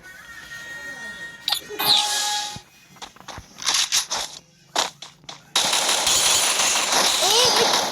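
Mobile shooter game gunfire cracks out in sharp bursts and single shots, including a headshot, mixed with game sound effects, while a player talks excitedly over the action.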